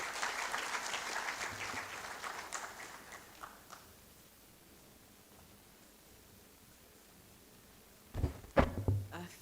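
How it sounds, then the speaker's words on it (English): Applause from an audience at a university research conference opening ceremony, fairly faint and distant, fading out over the first few seconds into quiet room tone before a brief burst of louder handling noise near the end. "As she comes, please, let's applaud."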